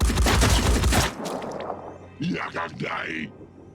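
Enemy return fire in Phoenix Point erupts as a loud, dense burst of gunshots for about a second, then cuts off as someone speaks.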